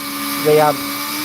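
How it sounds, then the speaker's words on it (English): A high-pitched drill whine rises briefly in pitch and level, then drops away as the drill slows, over a steady background hum. "Slowing the drill down."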